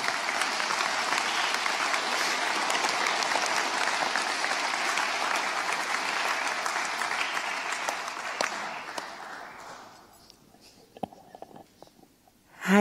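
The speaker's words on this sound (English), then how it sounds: "I want a warm applause if they appear" A conference audience at a Hague congress gives steady, dense applause welcoming a singer and guitarist to the stage, sustained for about ten seconds before tapering to a few scattered claps and faint rustling.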